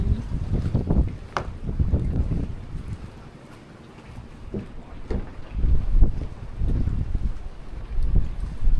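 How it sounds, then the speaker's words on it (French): Strong gusts of wind buffet the microphone in uneven roaring bursts, rising and falling over a steady outdoor rush on Tumbak island, Sulawesi. "Le vent souffle encore beaucoup aujourd'hui."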